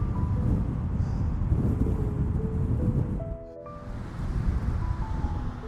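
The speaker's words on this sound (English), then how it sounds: "This has got to be 40+ mile/hour wind up here." Strong wind of over 40 mph gusts across an exposed hiking trail at Bummers Rock in Betasso Preserve, buffeting the microphone as a loud, continuous low roar that dips briefly and then surges back.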